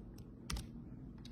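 A short computer-keyboard key combination, Control-V, pressed to paste: a few soft, quick clicks close by, with one slightly firmer tap in the middle, no talking.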